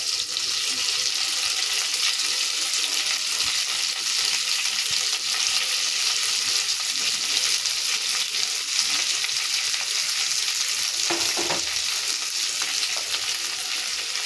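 Chopped mango leaves frying in a spoon of oil in a kadai, giving a loud, continuous close-up sizzle with faint stirring throughout.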